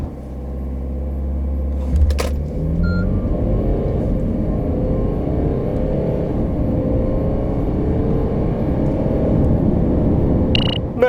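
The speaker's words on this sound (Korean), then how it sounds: "그럼 여기서 잠시 이 220D의 발진 가속 성능에 대해서도 알아볼까요?" Mercedes-Benz E220d diesel E-Class sedan accelerating hard from a standstill, a deep idle rumble swelling into a sustained, rising engine drone heard from inside the cabin, with brief clicks at the start and end.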